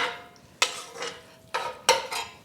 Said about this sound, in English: We'll stir around, gives it some beautiful color.